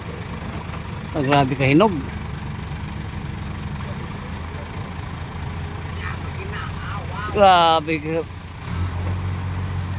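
A DE64W truck engine idling smoothly, a steady low rumble held throughout at close range, while someone speaks briefly over it twice.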